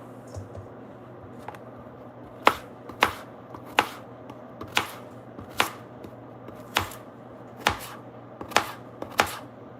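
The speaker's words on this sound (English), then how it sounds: "turmeric. This is the one that I hate chopping on my board" Fresh turmeric being chopped with a knife on a cutting board during fire cider preparation: about a dozen sharp, close knocks at an uneven, unhurried pace over a quiet background hum.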